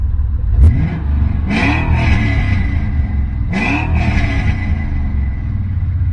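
A car engine revs up twice in strong bursts, rising and falling over a steady low rumble, sounding close.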